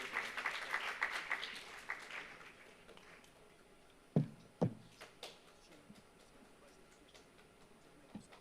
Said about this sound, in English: Round of applause for Micro Innovate Hub.